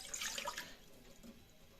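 A glass of water is poured into a cooking pot while making a spiced tea, a faint, short splashing pour that tapers off quickly, with no talking.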